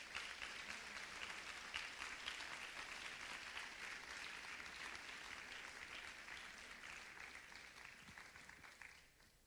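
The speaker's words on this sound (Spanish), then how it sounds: "Denle una ofrenda de palmas al Señor," Church congregation applauding together as an offering to the Lord, sustained dense clapping from many people at a distant, faint level that continues for about nine seconds before tapering off.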